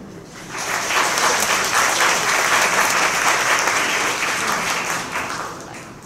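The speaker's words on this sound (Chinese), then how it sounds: "让我们以热烈掌声恭请洪明吉校长致辞" A large audience at China Medical University's graduation ceremony bursts into sustained applause, with the clapping swelling within the first second, holding at a full, even roar for several seconds, then thinning toward the end.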